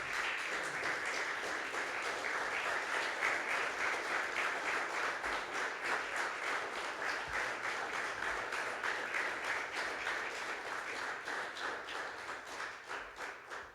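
A church congregation claps together in steady, rhythmic applause, sustained and fairly even throughout with no talking over it.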